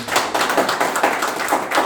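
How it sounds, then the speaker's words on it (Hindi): Clapping from an audience at a farmers' gathering in Pachkhara, Jasra, Prayagraj, a steady patter of many hands that holds evenly for about two seconds, with no voices over it. "जोरदार तालियां उस बच्ची के लिए"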